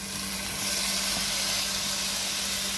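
Chopped tomatoes hitting a hot pan while the base for a Kerala chicken biryani is sautéed give off a steady, close sizzling hiss that holds evenly throughout, with no voices.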